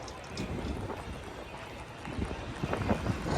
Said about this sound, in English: Oh good, it's windy.